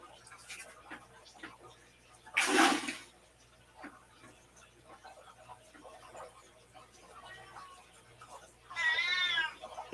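A cat meows twice, once in a loud cry early on and again in a drawn-out call near the end, with quiet room noise and scattered soft sounds in between.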